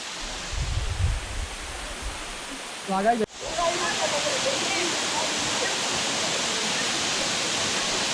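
Risang waterfall in Khagrachari pours with a steady, dense roar of falling water that fills the scene continuously, loud and close, with a brief shuffle and dip partway through before the rush resumes unbroken.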